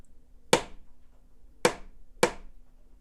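Three sharp pen taps on a hard surface form a short rhythm pattern, close and crisp, with an uneven gap between the first and second taps and a quicker third, set against near silence.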